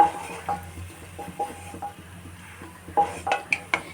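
Metal utensil scraping and clinking against a pan as roasted semolina (rava) is moved into a bowl while making rava laddu, with a series of close, irregular taps and scrapes and no talking.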